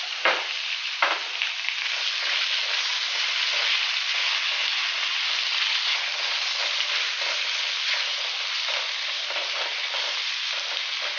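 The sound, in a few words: fish frying with tomatoes added, no oil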